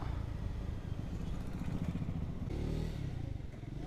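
Triumph Scrambler 400X motorcycle engine running steadily with a low, rough rumble and a rise in revs partway through, close and continuous with no talking.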